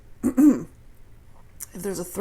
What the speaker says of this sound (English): that's when I have these stupid coughing attacks